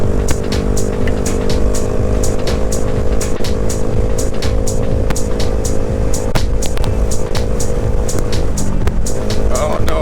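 Honda Grom motorcycle engine droning steadily and loud while riding, a sustained revving hum with wind noise and clicks throughout, topping out near the last gear.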